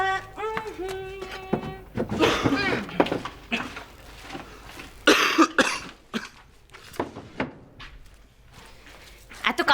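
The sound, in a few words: person coughing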